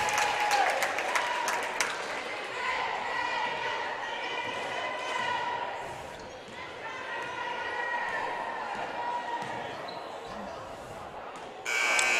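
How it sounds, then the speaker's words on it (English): A buzzer sounds to end the first half of a high school women's basketball game between Loretto and Mount Pleasant, a sustained tone rising over steady gym crowd noise and commentary. "the buzzer rings for the end of the first half"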